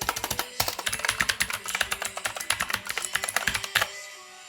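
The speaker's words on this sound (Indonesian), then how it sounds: "Dan saya coba ketik dengan keyboard mekanikal saya." Rapid typing on a mechanical keyboard, a dense run of crisp, close clicks and clacks in an uneven rhythm, ending abruptly after about four seconds with no talk.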